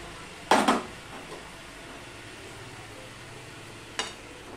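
A pot lid clanks shut over cabbage cooking with fish head: one sharp metallic clatter with a brief rattle near the start, then a quiet low simmer, and a second faint clink toward the end.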